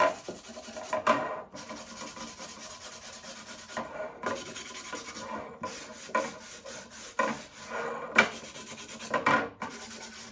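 A wooden picture frame being distressed by hand rubbing, heard as close, raspy back-and-forth scraping strokes in uneven bursts with brief pauses, fairly quiet and with no voices.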